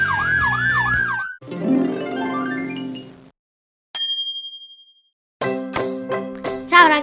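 A loud, near wailing siren rises and falls in fast cycles from a toy police vehicle set. It is followed by bright electronic tones, a ding and a jingly toy melody, with brief silent gaps between the sounds.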